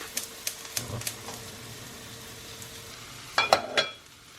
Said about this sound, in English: I'm just going to finish off by frying an egg.